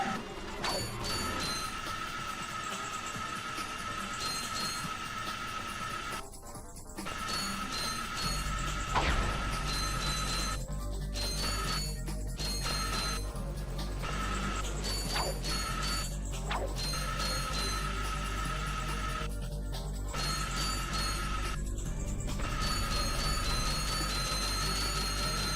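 Metallic grinding of Ratchet sliding along grind rails in the video game Ratchet & Clank, a continuous ringing scrape with a low rumble, punctuated by clanks and impacts, game music underneath.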